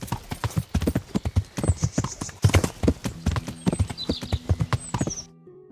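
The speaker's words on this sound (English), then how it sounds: "You can't catch me and my speedy Trojan horse." Horse hooves clip-clopping at a quick rhythmic pace in a medieval open-world game, close and prominent with occasional faint chimes, stopping abruptly near the end.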